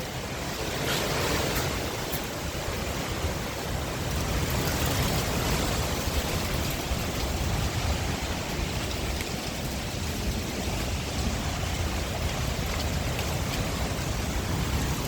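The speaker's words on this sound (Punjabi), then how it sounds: "ਮੀਂਹ ਵੀ ਆਉਣ ਵਾਲਾ ਗੱਜੀ ਜਾਂਦਾ ਲਸ਼ਕੀ ਜਾਂਦਾ ਵਿੱਚ ਕਣੀਆਂ ਵੀ ਆ ਗਈਆਂ" Dense, continuous hiss of rain pouring steadily during a storm, loud and unbroken for the whole stretch, with no voices.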